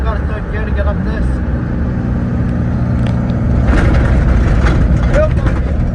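A Ford Bronco II climbs an off-road trail in third gear, its engine a steady, loud drone with bumpy rattling layered over it, and a person talks over the noise.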